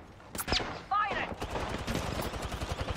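Rapid bursts of gunfire ring out in a video game shooter, with a sharp crack followed by a sustained rattling volley, loud and close over game background noise.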